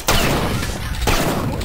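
Gunfire from the first-person shooter Duke Nukem 3D: two loud, sharp weapon blasts, one at the start and another about a second later, each followed by a dense, noisy tail that fills the gap.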